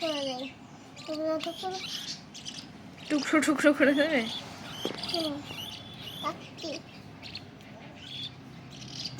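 A pet bird gives a few bright chirps and short warbling calls, clustered mid-clip and fairly close, between stretches of people talking nearby.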